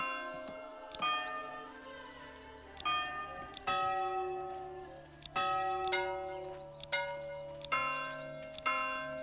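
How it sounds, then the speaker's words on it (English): A church bell in the Manor Lords strategy game chimes about seven times in an irregular series, each clear metallic strike ringing out and slowly decaying before the next, heard alone with no talk. "Now we get to choose our church bell sound."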